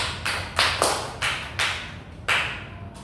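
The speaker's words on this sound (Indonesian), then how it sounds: "beri tepuk tangan dulu buat Rizka" Classroom applause from a small group of students, heard as a series of short bursts of clapping that rise and fade across a few seconds, fairly close and without talk.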